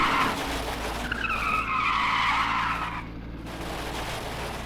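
A rear-engined race car skids and snaps sideways on a slippery circuit, a loud tire squeal swelling for about two seconds over steady engine roar, then easing off as the car carries on.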